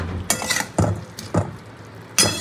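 A spoon stirs poppy seeds around a cooking pan in four or five separate scraping strokes, each with a light metallic clink, close by and with no talking.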